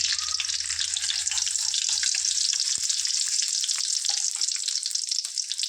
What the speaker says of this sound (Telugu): ఆయిల్ హీట్ అయ్యాక ఫ్రెండ్స్ దీంట్లో కొద్దిగా సాజీర ఒక నాలుగు ఇలాచి కొద్ది టేస్ట్ ఉప్పు కొద్ది దాచిన చెక్క ఒక ఐదారు లవంగాలు వేసుకోవాలి